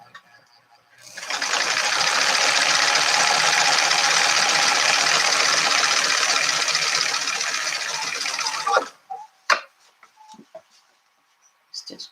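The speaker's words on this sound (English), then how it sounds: "I'm going to stitch that across all the way around the whole thing" A sewing machine runs steadily for about eight seconds, stitching around the liner of a fabric makeup pouch, loud and close, then stops, followed by a few light handling clicks and taps.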